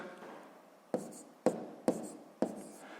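Numbers are written by hand, probably with a pen on paper, making five sharp scratchy strokes spaced roughly half a second apart, each fading quickly, close and quiet with no talking.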